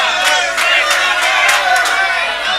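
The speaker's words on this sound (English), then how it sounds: "It's a noisy crowd here tonight." Loud, noisy crowd cheering and shouting continuously at a men's teams final between South Australia and Western Australia, a dense roar with whoops rising throughout.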